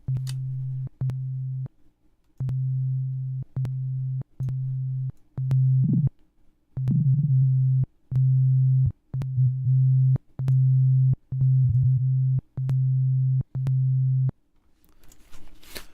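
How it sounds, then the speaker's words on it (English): An NI Massive synthesizer repeats a pure, steady tone in short pulses with a delay effect. Faint echoes and brief clicks sit between the evenly spaced, loud notes, with no voices. "So you can hear the delay going on right now."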